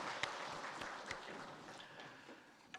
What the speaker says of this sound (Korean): 주님께 영광의 박수 드립니다.